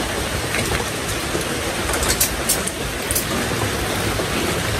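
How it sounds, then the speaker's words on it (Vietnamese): Steady, dense rain falls through the whole stretch, a broad continuous hiss with no break or clear individual drops and no voices over it. "giờ trời mình đang mưa nha, mưa sáng giờ"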